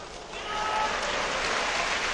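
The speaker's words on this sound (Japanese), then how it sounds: "10分経過で拍手を起きましたね" Audience applause fills an arena at the ten-minute mark of a Pancrase hybrid wrestling bout between Ken Shamrock and Yoshiki Takahashi, a dense steady wash of clapping that swells in and holds at a loud level.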